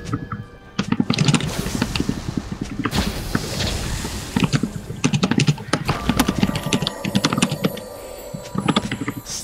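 Someone pounds hard on a computer keyboard during a gaming session, with rapid, loud, uneven bursts of key strikes and heavy thumps close to the microphone and a short pause early on.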